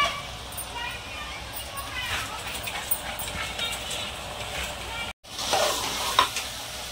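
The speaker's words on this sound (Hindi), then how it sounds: "चावल हमने डाल दिया है सब्जियों के साथ में, अच्छे से चला लेंगे इसको, यानी अच्छे से भून लेंगे सब सब्जियों को" Rice stir-fried with vegetables in a pan for veg masala pulao gives a steady sizzle with stirring scrapes, while a dog barks and whimpers and someone speaks over it; a brief dropout near the end.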